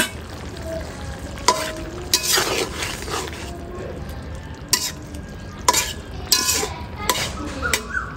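Curry of snake gourd with small fish being stirred in a hot pan after coriander leaves and green chilies go in, a steady sizzle and frying hiss broken by repeated scraping and clinking spoon strokes against the pan.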